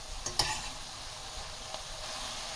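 Soya keema with onion and tomato sizzles in a pan in a steady, close frying hiss, with a couple of light stirring scrapes near the start.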